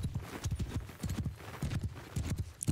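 Horses gallop in the Mount and Blade Bannerlord video game, their hooves striking in a rapid, steady clip-clop rhythm close by, with no talk over it.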